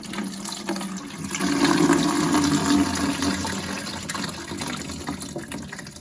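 Water rushes out of a toilet tank as the flush valve is wiggled loose and pulled, a steady close gush that swells after a second, then settles into continued running flow with no talking.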